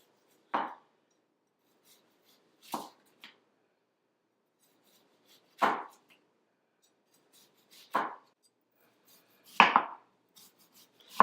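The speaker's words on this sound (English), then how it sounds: "So we're going to go ahead and get these sliced up nice and thin." Vegetables are sliced thin with a knife on a cutting board, about six separate crisp cuts spaced a second or two apart against near silence.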